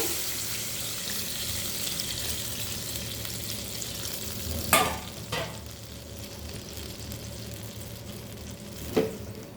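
Fried pointed gourd hisses steadily in a pan as broth is poured in, a broadband sizzle with a few sharp splashy bursts near the middle and end, close up with no talk.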